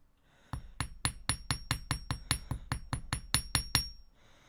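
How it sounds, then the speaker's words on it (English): A hammer strikes a metal earring on a steel bench block in fifteen sharp, ringing metallic taps at a steady rhythm, close and clear with no talk over them. "I have a bench block and a hammer, so I'm just not gonna hammer everywhere because I like the shiny metal."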